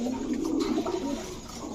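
A pair of Mili racer pigeons coo softly and continuously, their low, rolling calls overlapping at close range against a faint background hum.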